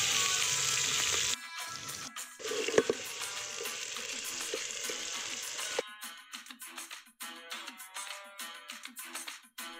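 Onions sizzle in hot oil with curry leaves and garlic for a village-style radish sambar, a steady loud frying hiss with stirring clatter that drops to quieter, uneven crackling sizzles.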